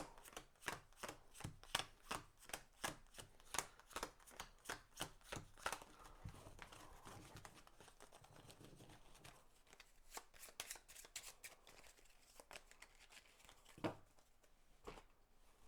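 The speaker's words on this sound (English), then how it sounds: "Got a new deck to shuffle." A new deck of cards is shuffled during a solo tabletop game of Spirit Island, giving close, crisp rapid riffles in a quick rhythmic burst, then quieter, scattered card handling and a few sharper snaps.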